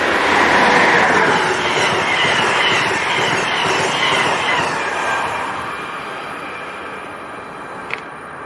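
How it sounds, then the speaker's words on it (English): An Amtrak Silver Star passenger train led by an ACS64 electric locomotive passes through Princeton Junction station, a loud, close rushing roar of wheels and cars that slowly fades, with a brief sharp squeal near the end. "That was Amtrak Silver Star train number 91 passing through at 11:43 a.m. with the Amtrak Veteran Scheme ACS64 number 642 leading."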